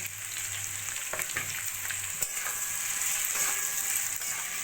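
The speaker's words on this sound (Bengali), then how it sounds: "সবজিগুলোকে খুব ভালো করে ভাজা ভাজা করে নিয়েছি এবার দিয়ে দেবো আমি পরিমাণ মতো নুন হলুদ লঙ্কার গুঁড়ো আর জিরের গুঁড়ো" Vegetables for a methi saag dish fry in a pan with salt, turmeric, chili powder and cumin powder, giving a continuous close sizzle with scattered stirring scrapes and no talking.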